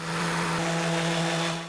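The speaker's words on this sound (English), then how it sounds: "Now I am wet sanding with 1500 grit" Wet sanding of wood by hand with a 1500 grit 3M Trizac pad, a steady, close, continuous abrasive rubbing hiss with a faint hum beneath and no pauses.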